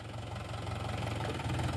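A Mahindra 265 tractor engine running under load, a steady low mechanical chug with rhythmic knocking pulses, continuous and moderately near, no voices.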